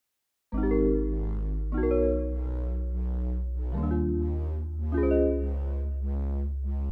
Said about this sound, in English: Sounds like this with the first main pluck.